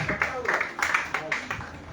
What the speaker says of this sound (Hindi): मंसूर साहब के लिए जोरदार तालियां